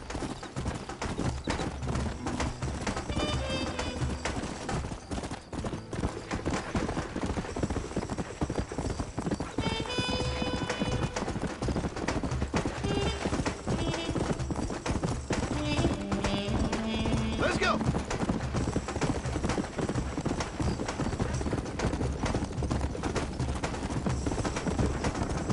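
A horse gallops with steady clip-clop hooves in the Red Dead Redemption video game, joined by whinnies, gunfire bursts and a continuous music score, with voices speaking at points throughout.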